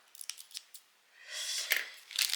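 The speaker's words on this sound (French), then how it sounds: "c'est un petit ciseau pour couper les fils" Small embroidery scissors snipping threads, with a few light quick clicks followed by a softer, longer snip, close and faint.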